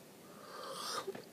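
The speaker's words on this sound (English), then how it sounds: "Sorry, I had to yawn." A long, breathy yawn close to the microphone, rising into a wheezy, strained exhale before trailing off.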